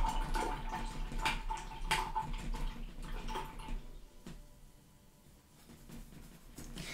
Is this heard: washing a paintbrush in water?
yes